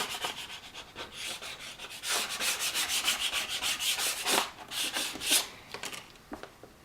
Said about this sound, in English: you'll take time and adhere this with the credit card, making sure you hit every little location